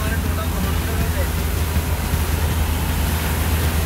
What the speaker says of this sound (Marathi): कुठल्या तरी फ्लायओव्हरला आहे आम्ही फुल पाऊस लागले